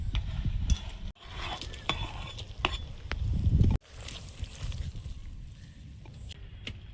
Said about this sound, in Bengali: ঝোলটা ফুটছে, এখন বেগুন আর মাছটা দিয়ে দেবো।